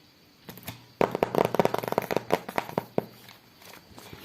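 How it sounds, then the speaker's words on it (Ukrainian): Paper surprise packets being unwrapped by hand: a burst of crisp rustling and crinkling with sharp crackles and tears, dense in the middle and thinning out toward the end, close and fairly loud. "Ось такі у нас з вами пакетики на розпаковочку, тому давайте розпаковувати."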